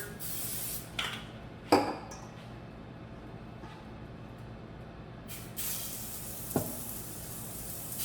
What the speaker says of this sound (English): I'm going to hit this with a little bit more non-stick cooking spray here.